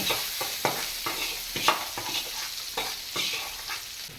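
Tempering spices crackle and sizzle steadily in hot oil for bottle gourd chutney, with turmeric added, close and fairly loud, with a few stirring scrapes and no voices.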